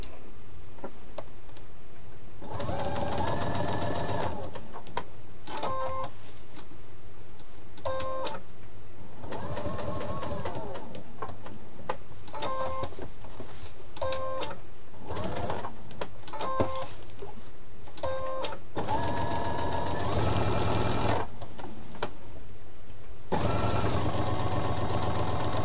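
An electronic sewing machine stitches a multicolored fabric appliqué in repeated bursts of rapid mechanical whirring and ticking, separated by short pauses and clicks, close and steady.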